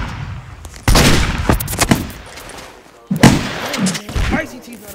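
Gunfire in a video game aimed at a ninja comes as loud sharp shots and booming thuds in two bursts, with a voice speaking among them.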